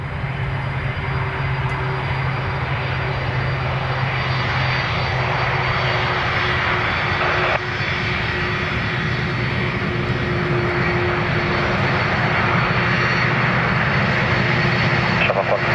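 An Aer Lingus airliner on its ILS approach to runway 28L at Dublin Airport, its engines roaring loudly and steadily throughout with a constant drone and hum, while air traffic radio voices talk over it.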